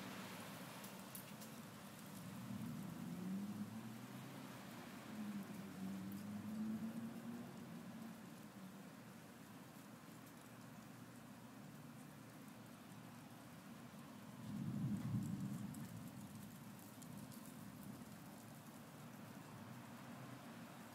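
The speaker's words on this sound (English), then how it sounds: "what do you think of this wild storm?" Steady, faint rain falls during a storm, with low rumbles of thunder rolling in now and then, the strongest rumble near the end.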